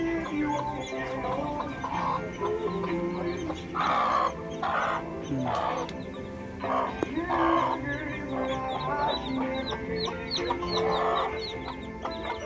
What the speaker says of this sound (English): Look at the chicks and mother hen protecting them.